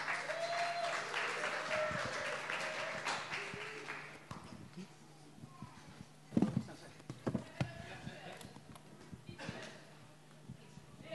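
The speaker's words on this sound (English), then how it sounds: "Let's put our hands together for Bruce." Audience applause in a church welcoming guest preacher Bruce, a loud sustained clatter of clapping that fades after a few seconds, leaving scattered claps and voices talking over the room.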